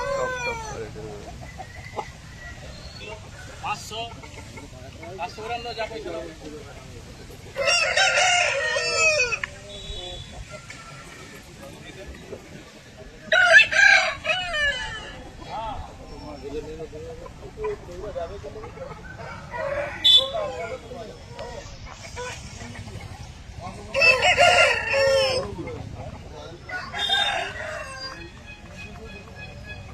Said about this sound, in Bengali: টপ কোয়ালিটির মুরগি আছে, টপ কোয়ালিটির মুরগি।